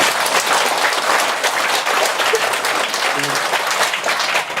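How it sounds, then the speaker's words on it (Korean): Dense, steady applause from a temple congregation at a Buddhist dharma service, a sustained wash of many hands clapping at even loudness with no pauses. "그런 의미에서 자축의 박수를 한번 더 쳐야 돼요"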